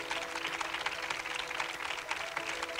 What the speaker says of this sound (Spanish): quiero pedirles ese segundo aplauso para sus diseñadores